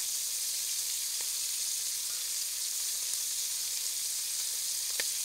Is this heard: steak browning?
yes